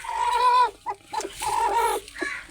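A hen clucks and squawks in agitated bursts while being lifted and set onto her eggs for hatching, a close, loud run of rising protesting calls broken by short pauses.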